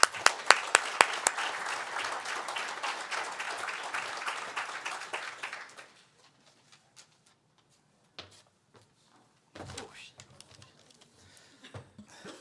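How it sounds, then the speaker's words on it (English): Audience at an all-candidates election dialogue applauding a real estate board sponsor representative, a loud burst of clapping that fades out after about six seconds, followed by faint shuffling and scattered small knocks. "Let's give a great round of applause to Francis Ali."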